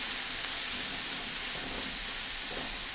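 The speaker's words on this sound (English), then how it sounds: "And I'll give that another little stir" Carrots, celery and other vegetables for fried rice sizzle loudly in a hot pan while being stirred, a dense, continuous hiss that stays constant throughout.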